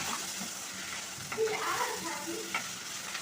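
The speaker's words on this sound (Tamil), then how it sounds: "இப்போ வெங்காயம் நல்லா வதங்கிட்டு இருக்காங்க தக்காளியும் நம்ம போட்டுக்கிறோம் நல்லா வதங்கட்டும்" Onions and tomatoes sauté in a pan for a turkey-berry tamarind curry, giving a steady close hiss of sizzling with brief scraping stirs partway through.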